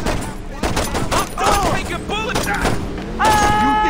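Gunfire in the video game Saints Row, rapid bursts of shots and booming impacts layered with game effects, loud and continuous, while a player talks over it.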